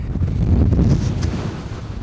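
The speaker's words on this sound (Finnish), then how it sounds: "Ihan niinku täällä tuulisi." Strong wind gusts across an open snowy fell in Pallas-Yllästunturi National Park in winter, roaring and buffeting the microphone with heavy low rumble, loud and continuous without speech.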